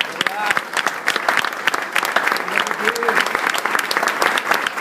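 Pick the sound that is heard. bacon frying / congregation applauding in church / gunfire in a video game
congregation applauding in church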